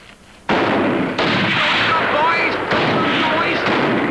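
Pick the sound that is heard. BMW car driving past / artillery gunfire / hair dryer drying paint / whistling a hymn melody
artillery gunfire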